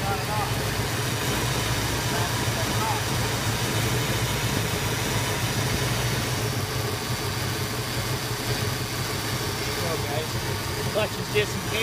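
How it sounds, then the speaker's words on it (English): A 1985 Zimmer car's engine idles with a steady low rumble while its AC compressor clutch cycles on and off, a voice talking over the engine. "AC cycling on and off."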